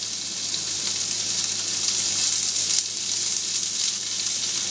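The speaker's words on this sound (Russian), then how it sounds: "Мы производим запечатывание стейков на раскаленной сковородке." Filet mignon steaks sear in a hot frying pan, a loud continuous sizzle and crackle with no talk over it.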